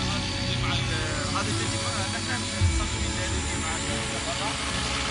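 An LED-fitted drone flies at a drone competition, giving off a continuous whirring rotor buzz with a steady, fairly loud level, while people talk over it.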